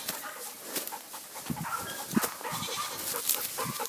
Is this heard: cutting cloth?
no